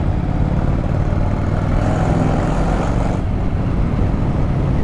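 A Yamaha Virago 1100 motorcycle with a loud aftermarket exhaust rumbles continuously at close range, a dense, even drone holding steady throughout.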